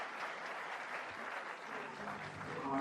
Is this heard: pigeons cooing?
no